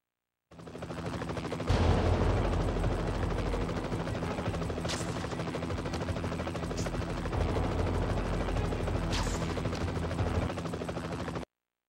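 A black helicopter in the Spider-Man 3 game roars steadily with dense rotor noise, mixed with bursts of gunfire and crackling explosions throughout, loud and continuous.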